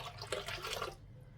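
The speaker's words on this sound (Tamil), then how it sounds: "இன்னும் கொஞ்சம் தண்ணி சேர்த்துக்கிறேன்." Water splashes and pours for about a second into a pot of murungai keerai kulambu, a short close gush that stops abruptly.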